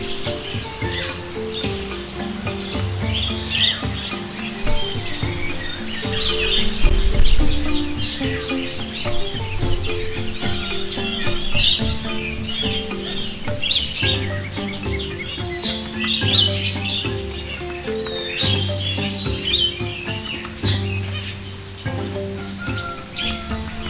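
Sunbirds in an aviary give rapid, high chirps and tweets that overlap continuously, close and lively throughout.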